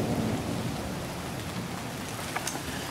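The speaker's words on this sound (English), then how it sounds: "Ooh, starting to rain now." Rain begins falling outdoors during a building storm as a steady wash of hiss with low rumbling thunder underneath, joined by a few brief sharper drips or taps near the end.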